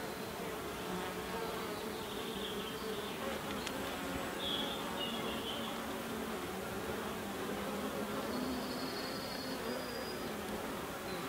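A dense, continuous hum of many honeybees buzzing close by around an open hive, steady and even throughout, with faint individual bees passing near.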